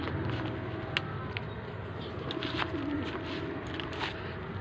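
Pigeons coo softly against a continuous outdoor background hum, with a few faint bird calls mixed in and no clear speech.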